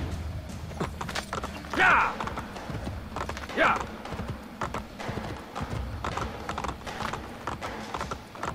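Horse hooves clip-clop steadily in the Assassin's Creed Brotherhood video game, with mechanical creaks and two brief sharp accents, while someone talks over the game sound.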